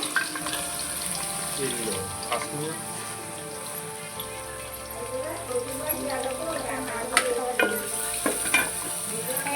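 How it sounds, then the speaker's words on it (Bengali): Sliced onions fry in a pan until brown for a Bengali mutton curry, a steady crackling sizzle with occasional stirring scrapes running throughout, with no talk over it. "পেঁয়াজটা বাদামি করে নেওয়া হবে। জোরে জোরে এই পেঁয়াজটা বাদামি করবে।"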